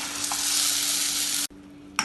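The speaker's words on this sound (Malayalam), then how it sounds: "വീണ്ടും ഇളക്കി വഴറ്റാം" A steady, close sizzle of ground tomato and masala sautéing in a pan, with brief scraping clinks of stirring and a sudden drop partway through.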